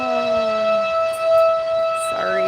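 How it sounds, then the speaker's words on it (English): A town fire siren in Milford, Delaware, a small town of about 6,000, sounds to call out the fire company, holding loud, steady sustained tones that rise slightly near the end, with no talking. "It's a small town where they still use fire sirens to call the fire company."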